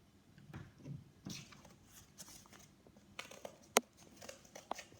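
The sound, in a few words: scissors cutting out a cardboard circle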